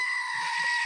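Brief human imitation of a goat bleating: a single quick, tight, nasal bleat under a second long, close and moderately loud.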